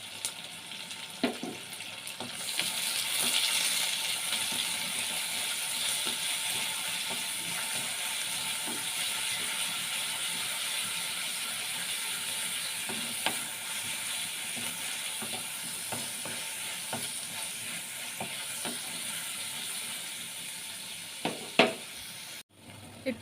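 Crushed garlic, cut green chilies and curry leaves sizzling in a frying pan, a steady close hiss throughout with faint scraping of a stirring utensil and a couple of sharp clinks near the end.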